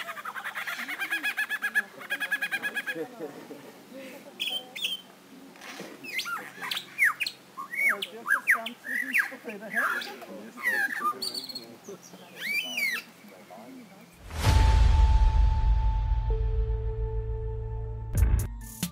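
Lyrebird calling and mimicking other birds, a rapid varied run of whistles, chirps, squawks and trills, fairly close and loud, ending with an abrupt burst of mechanical-sounding noise and tones.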